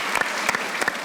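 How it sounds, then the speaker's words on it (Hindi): An audience claps for Abbas on a Pakistani comedy show, a short burst of applause that swells in brief waves over about a second. "एक बार तालियां"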